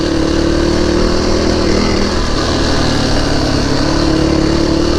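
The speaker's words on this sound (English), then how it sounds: "This is not a dual sport. This is a enduro race bike." An enduro race motorbike engine running close by, a loud, steady mid-pitched drone holding near idle with slight rises in revs throughout.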